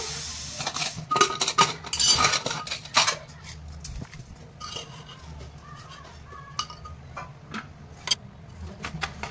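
A pressure cooker that has already whistled three times is opened after cooking jackfruit seeds, giving a run of close metallic clanks and rattles of the lid and pot that are irregular and fairly loud, with no talking.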